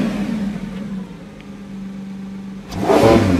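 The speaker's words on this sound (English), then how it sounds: "I've turned it into sports mode so we can rev it a tiny bit." A Lamborghini Revuelto V12 in sports mode idles with a steady low hum, then revs sharply near the end in a loud, close burst.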